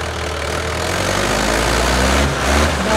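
Mahindra 575 tractor engine running in a field, a steady loud low diesel rumble throughout with a slight rise in effort near the end, no talking.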